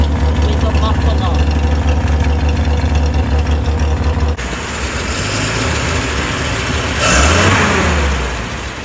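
A Dodge WC51 truck engine runs rich, idling with a steady low rumble up close, then a hiss and a brief rev toward the end. Someone talks over the engine throughout.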